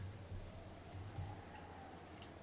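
Steady rain on a dark night in the visual novel Umineko, a continuous even patter with a low rumbling undertone and no voices.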